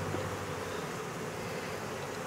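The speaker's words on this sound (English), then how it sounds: "we've got our jar of about 300 bees" Honeybees, about three hundred of them, buzzing inside a jar during a sugar-roll mite check; a continuous close, droning hum with no talk.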